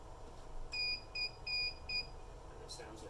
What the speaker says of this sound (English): And it sounds the buzzer on the MVR.